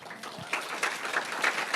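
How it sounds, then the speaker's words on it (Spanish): Congregation applauding in a church worship service, a steady wash of broadband clapping that swells and fades without voices on top, moderately loud throughout. "Dale un aplauso al Señor"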